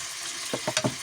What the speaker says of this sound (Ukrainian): Поки наше м'ясо смажиться